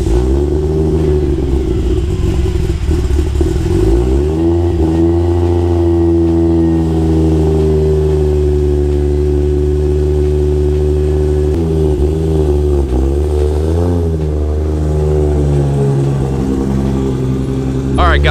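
Toyota Supra engine running with a steady low mid-pitched drone throughout, swelling in brief revs around the middle and near the end, loud and close, with no talk over it.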